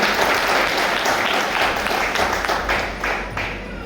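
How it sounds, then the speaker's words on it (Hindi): Steady, dense applause from a seminar audience cheering Diamond Club members, loud and sustained, tapering slightly toward the end. "एक बार जोरदार ताली जाए सभी डायमंड क्लब वालों को।"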